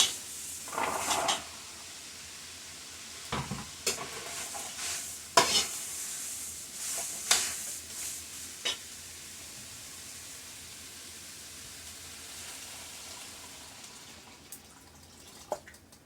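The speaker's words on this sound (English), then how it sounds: "now I got the hamburger going again" Hamburger meat frying and being stirred in a pot, with soft sizzling under scattered scraping and clinking of the spoon against the pot, close by and fairly quiet, with no talking.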